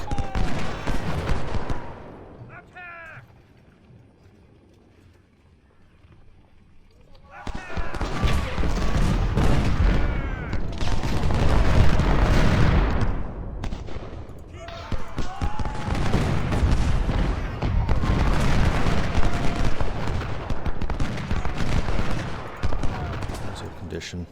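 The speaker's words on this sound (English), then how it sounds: "they're using round shot on my troops while my artillery are using canister on theirs" Dense, overlapping gunfire and booming artillery from the Civil War strategy game Ultimate General: Civil War rumble loudly in long sustained volleys, with a brief lull between them.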